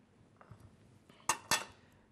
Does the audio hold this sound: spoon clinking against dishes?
yes